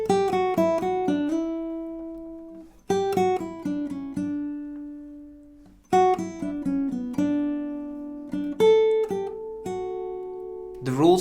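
A classical guitar plays a romantic melody in phrases of plucked notes over sustained chords, each note ringing clearly and decaying, with short pauses between phrases and no voices.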